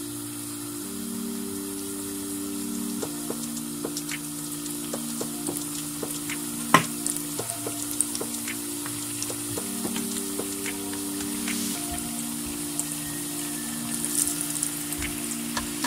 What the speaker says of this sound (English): Deep fry them, right, on low heat